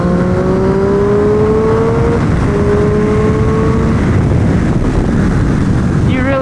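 Triumph Street Triple R motorcycle on a race track, a loud engine whine climbing in pitch through gears amid heavy rushing wind buffeting, close and constant.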